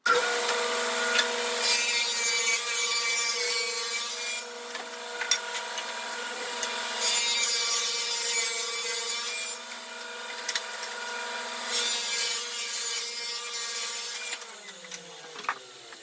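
A saw cuts through a hardwood board for cabinet parts, a steady, close rasping drone with strong tonal whine that pauses briefly and resumes several times before trailing off at the end.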